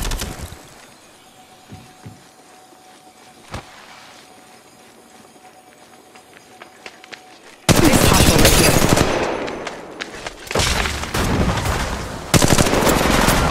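Sustained automatic gunfire from Apex Legends Mobile, the Cold Snap winter battle royale mode, opens suddenly after quiet ambient sound, with loud rapid bursts that carry on to the end.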